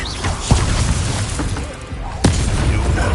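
A Confringo spell explodes in a Hogwarts video game: a couple of heavy booms with crackling impacts over dense game noise, near and loud, with some voices mixed in.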